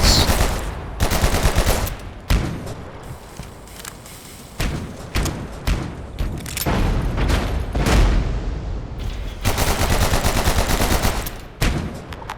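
Rapid gunfire bursts and booming shots ring out in the video game Abiotic Factor, loud, close and dense, with thuds and brief pauses between volleys.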